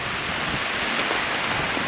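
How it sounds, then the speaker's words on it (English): Steady rain falls on a loft roof under repair, a dense, even hiss that stays constant with no breaks. "It's raining, just my luck."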